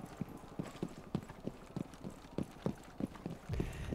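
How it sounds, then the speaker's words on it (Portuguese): Horse hooves clip-clop in a steady, evenly spaced rhythm during Rainbow Six Siege gameplay, a faint run of about a dozen hollow knocks under low background game noise. "o easter egg do cavalo"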